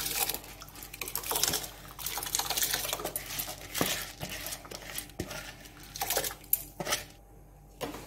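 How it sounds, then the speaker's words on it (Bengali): Rice is poured into a pot of heating water for vegetable fried rice, making a light, grainy rattle in uneven bursts with a few soft clinks, fairly quiet and close. "এদিকে জল আমি গরম করতে দিয়েছি। চালটা এতে দিয়ে দেব। চালটা দিচ্ছি বন্ধুরা।"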